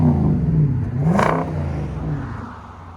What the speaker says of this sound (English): Nissan Armada 2020 MagnaFlow Duals, MagnaFlow MagnaPack.